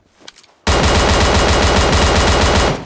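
Sustained automatic gunfire from a sniper-mode video game, a loud, dense burst of rapid shots starting abruptly after a short quiet lead-in and running continuously to the end.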